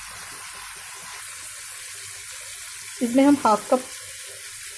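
Fried potatoes sizzle steadily in a pan as a little water is added, with a brief spoken phrase partway through.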